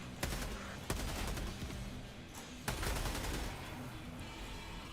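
Gunfire from a Helldivers 2 video game battle: a loud, dense burst of rapid shots with sharp cracks repeating through the clip, close and dominant.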